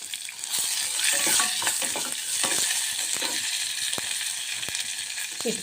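Curry leaves crackling in hot tempering oil with mustard seeds, urad dal, cumin, dried red chillies and fenugreek for pepper rasam, a loud continuous sizzle with scattered sharp pops and stirring, close and without talk.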